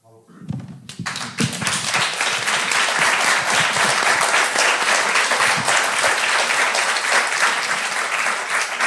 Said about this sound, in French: j'applaudissais votre victoire